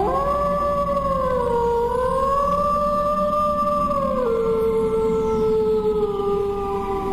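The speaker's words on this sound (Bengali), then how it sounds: "অন্ধকারের বুক চিরে ভেসে এলো কয়েকটি শেয়ালের ডাক।" Several jackals howl in the dark, long wavering cries rising and overlapping, loud and sustained and gently sliding in pitch, with no talking.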